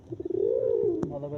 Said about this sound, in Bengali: লাল টকটকে কবুতর দেখতে পাচ্ছেন কিরকম খেপানোর, একদম ফ্রেশ কবুতর।